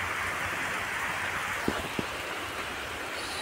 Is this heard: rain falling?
yes